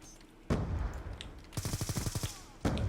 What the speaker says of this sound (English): keep on putting bullets down range